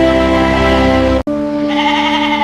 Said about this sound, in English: Healthy premium goats arrive at the Halal factory.